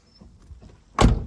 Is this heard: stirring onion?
no